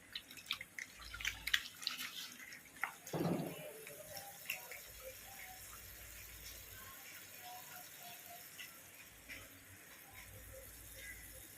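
Water drips and splashes in a sink as raw chicken is washed for chicken biryani, with scattered close taps and trickles early on, then a faint, steady background.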